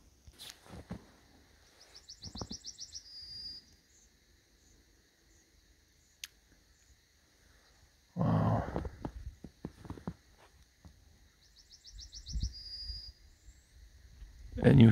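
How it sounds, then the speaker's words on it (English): Short bursts of high, rapid bird trills recur a few times in Poland in a snowy spring against a quiet background, with some louder rustling and handling noises in between. "And you hear that bird singing."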